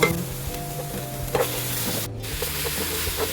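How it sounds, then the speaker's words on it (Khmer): Chicken pieces stir-fried with spices and lemon leaves in a hot pan, steady close sizzling with scraping stirs and a couple of sharper clatters, no talking. "អញ្ចឹងយើងដាក់សាច់មាន់យើងចូលហើយយើង ឆាវាជាមួយនឹងគ្រឿងហ្នឹងឲ្យចូលសព្វជាតិជាមួយគ្នាបានល្អ"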